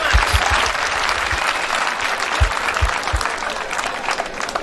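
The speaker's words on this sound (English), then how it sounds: "Can we clap for them so much?" Steady applause from a crowd at a school event honoring teachers, dense and continuous clapping throughout with a few sharper individual claps.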